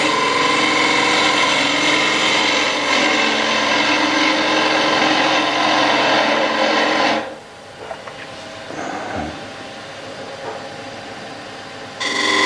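A lathe tool cuts the resin rim of a floating-rim turned bowl, making a loud, close, continuous whirring scrape for about seven seconds; then the lathe keeps running more quietly with light tool contact, and cutting briefly resumes at the end.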